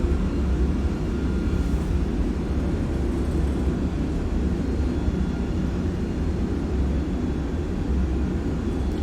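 An Airbus A300-600 in a flight simulator rolls out after landing with reverse thrust engaged. The engines give a steady, loud, broad roar that holds level throughout, and no one talks over it.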